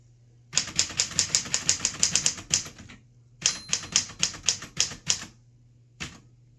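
A 1938 Corona Sterling manual typewriter clatters through two quick bursts of keystrokes, each a run of crisp close mechanical clacks, separated by pauses and ending with a lone final strike, with no voices.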